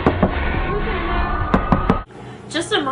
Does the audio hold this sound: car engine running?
no